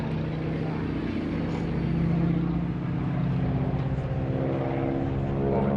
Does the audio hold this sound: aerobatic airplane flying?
yes